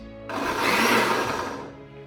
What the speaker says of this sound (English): So I'm covering it, and then we're going to blend.